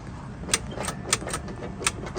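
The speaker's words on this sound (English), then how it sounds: "if you listen, you can hear the solenoid click." Solenoid on a Club Car DS 48V golf cart that will not run, giving three sharp, isolated clicks about half a second apart over a steady low background hum.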